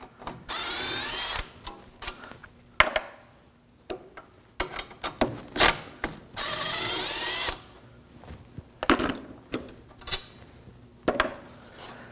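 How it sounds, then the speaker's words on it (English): A 19mm socket tool breaks loose and spins out the two brake caliper bolts on a 2014-2020 Acura MDX during front wheel bearing work, in sharp, loud bursts of whirring separated by short pauses and metallic clinks. "We're going to remove the caliper assembly using a 19mm socket. We're going to remove these two bolts. Break them loose."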